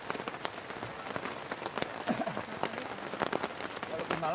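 Heavy rain drums steadily on a tent at a campsite, a dense continuous patter with sharper individual drops standing out, while people talk faintly beneath it.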